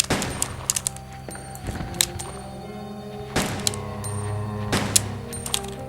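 Gunshots fired at zombies in the Resident Evil 2 video game, heard as several loud, separate shots spaced a second or so apart with ringing tails over a low, droning background.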